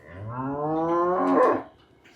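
A single cow gives one long, close, resonant moo that swells and then cuts off, leaving a quiet tail.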